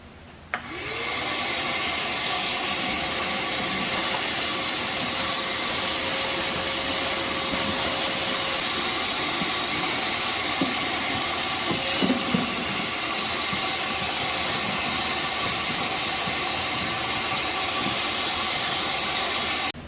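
A vacuum cleaner hose sucking up broken window glass from inside a car door, a loud steady hiss-and-whine drone running throughout, with a few small clicks and rattles of glass being pulled in; no talk.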